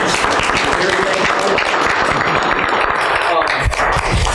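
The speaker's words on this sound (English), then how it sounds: "So if everyone could just give her a quick round of applause." Meeting attendees at a joint school board and budget committee session give a quick round of applause, a steady dense patter of many hands that stays fairly loud throughout.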